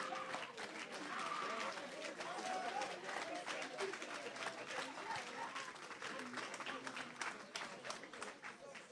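A church congregation applauding and cheering at a deliverance service, with sustained dense clapping and crowd noise at moderate distance, and a voice speaking over it.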